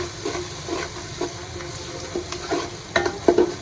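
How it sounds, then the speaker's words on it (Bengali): Chopped ginger and onion frying in oil in a pot for beef tehari, a continuous close sizzle broken by repeated spoon scrapes and clinks against the pot, moderately loud, no speech. "পেঁয়াজটা আমি একটু ভেজে নেবো"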